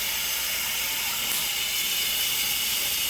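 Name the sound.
shower head spraying water, softer spray setting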